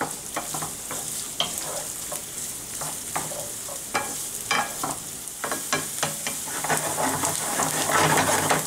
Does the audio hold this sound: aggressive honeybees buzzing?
no